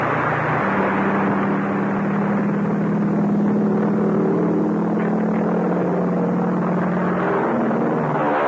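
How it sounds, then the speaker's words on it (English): A 1930s military target plane's engine turns over and settles into a steady droning hum with a sustained low tone, loud and close, running continuously for several seconds without talk. "Start the plane."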